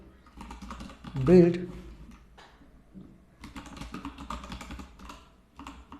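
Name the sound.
typing on a computer keyboard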